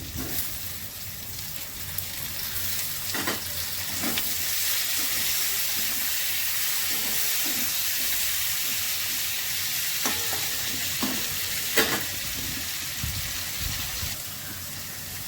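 Turmeric and chopped tomato sizzle steadily in a hot pan while being stirred, with a continuous frying hiss and occasional soft scrapes and knocks of the spoon over about fifteen seconds, close and even.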